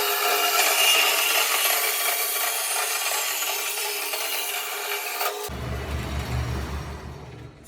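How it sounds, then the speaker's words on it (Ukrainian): A pipe being cut with a hand saw, giving a dense, continuous scraping rasp that runs for about five seconds and then stops abruptly, leaving a low rumble. "Так, все, ріжу. Зараз ріжу трубку."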